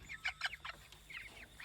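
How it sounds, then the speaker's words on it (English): Meat chickens out on a grass pasture, giving soft, quick clucks and chirpy calls in short bursts, close by and fairly quiet, with no talking. "And here is all the meat birds in there on grass now."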